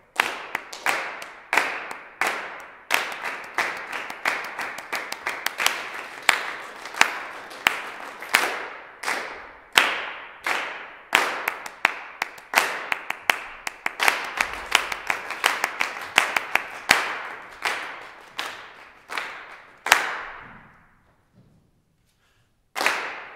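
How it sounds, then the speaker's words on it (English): A choir group claps rhythms in echo, one measure behind a leader, with sharp, close, rhythmic handclaps in varied patterns that run steadily and then stop, leaving a short silence at the end. "will you clap the rhythms that I clap, but do it one measure after the measure I clap?"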